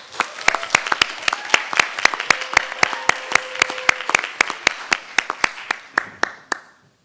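Audience at a student organizing event clapping to welcome a poet, sharp distinct claps from a small nearby crowd that thin out and stop after about six seconds.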